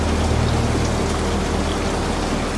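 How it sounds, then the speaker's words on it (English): Steady rain falls outside a Rocky Mountaineer train rolling through dark Canadian mountain forest, a dense, even hiss that holds unbroken at the same level throughout, with no voices. "listening to the rain, still falling, still steady"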